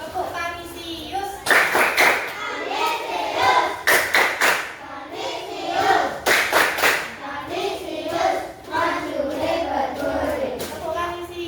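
Schoolchildren in a classroom performing the Kanisius clap routine, loud rhythmic bursts of group clapping in patterned sets, mixed with children's voices and chanting between the clap groups.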